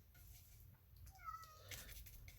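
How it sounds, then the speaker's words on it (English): A cat trying to get indoors gives a few faint, plaintive meows from somewhere off, over a quiet room with a low rumbling background. "that's the cat who is desperately trying to come in here"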